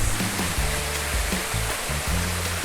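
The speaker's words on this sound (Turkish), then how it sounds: "Her yerde su akıyor görüyor musunuz? Her yer su." Water flows at the Harbiye waterfalls in Defne, Hatay, a constant broad rushing roar that fills the whole stretch, steady and fairly close, with no speech.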